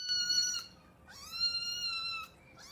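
A cat gives two drawn-out, whiny meows, close and fairly loud over a soft background hiss, with no voices.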